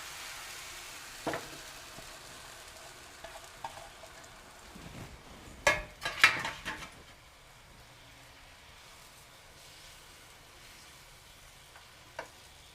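Beaten egg for a masala omelette fries quietly in a pan with a soft, continuous sizzle, broken by a cluster of louder spatters and scrapes midway and a single sharp tap near the end.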